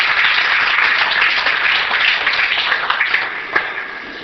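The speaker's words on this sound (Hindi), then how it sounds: "तालियां बजाने इनके लिए एक बार।" Steady applause from a seated audience, dense and continuous throughout, with a few sharper claps near the end and no talking over it.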